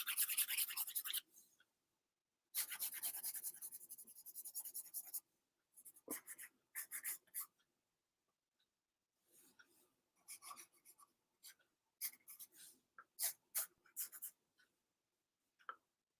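A pencil shades and draws on paper, heard as close, dry scratching strokes in bursts of quick back-and-forth rubbing separated by silent pauses.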